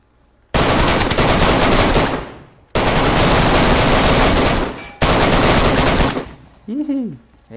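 Automatic weapon fire in the DayZ survival shooter on PS4, with three long, loud sustained bursts separated by short pauses, followed by a brief wavering sound at the end.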